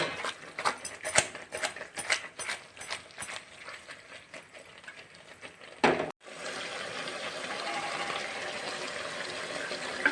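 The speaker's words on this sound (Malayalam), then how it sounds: "ഇനി നമുക്കിതൊന്ന് കുടഞ്ഞു വയ്ക്കാം." A covered pan of steaming kozhuva peera, small fish cooked with coconut, is shaken: rapid clattering rattles for about six seconds, a sharp knock, then a steady soft hiss of steam.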